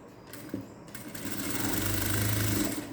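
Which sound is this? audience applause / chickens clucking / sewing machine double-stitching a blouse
sewing machine double-stitching a blouse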